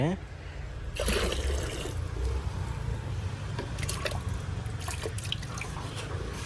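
Water is poured from a jug, splashing and dribbling under people talking nearby.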